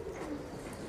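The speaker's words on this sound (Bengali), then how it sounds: "এই যে কবুতর" A Pakistani Teddy pigeon coos in a faint, low, continuous murmur lasting about a second, close by and without speech.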